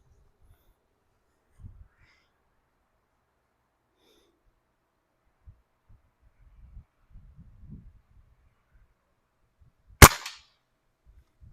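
A modded 2240 air gun fires a 14.7 grain pellet, one sharp loud crack ringing briefly after a long, near-silent stretch with a few faint handling bumps.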